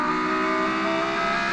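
A loud GT1 race car engine holds a steady, droning roar close by, its tone barely changing and with no voices over it.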